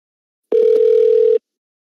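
A steady telephone dial tone sounds after a call is cut off, one loud unbroken tone lasting under a second and beginning and ending abruptly, with nothing else around it.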